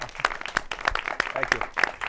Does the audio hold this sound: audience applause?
yes